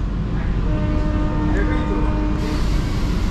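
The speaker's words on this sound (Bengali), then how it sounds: "দমদম থেকে আমাদের ছেড়ে দিল ট্রেন।" Sealdah–Kalyani AC local train pulling out of Dum Dum station, a steady low rumble of wheels and carriage noise with a faint tonal whine, continuous and close throughout, a brief shift in tone near the end.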